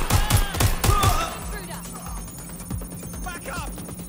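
Gunfire in the video game Watch Dogs Legion: a rapid string of five or six loud shots opens, followed by scattered fainter shots and ambient game noise with some voice activity underneath.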